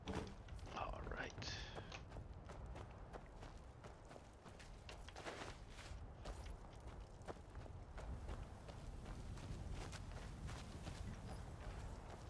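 Horse hooves clip-clop in Skyrim at a steady walking rhythm, moderately loud and continuous, with game ambience and a faint whisper-like voice underneath.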